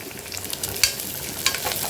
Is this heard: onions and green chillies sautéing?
yes